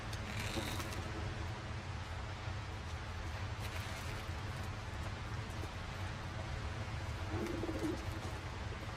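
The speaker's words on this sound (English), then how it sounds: "Pigeons." Pigeons coo in a scene from The Last of Us Part II, soft low murmuring calls over a steady game ambience, faint and intermittent.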